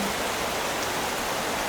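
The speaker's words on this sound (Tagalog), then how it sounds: "rain is very heavy." Heavy rain pours down steadily as a dense, unbroken hiss that fills the whole moment, loud and even with no voices.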